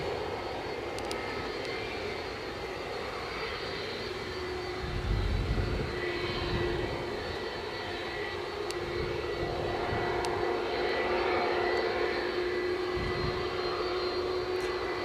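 An aircraft on final approach to Edinburgh airport rumbles at a moderate distance, a low steady drone with a faint tonal whine and swelling low-end surges as it nears the runway.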